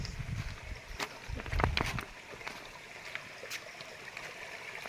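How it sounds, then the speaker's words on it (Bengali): A mountain stream of cold hill water runs in a low, steady wash throughout, with a louder splashing burst near the start, heard outdoors with no talking. "এখানে পাহাড়ের জলগুলো সব ঝরে যাচ্ছে"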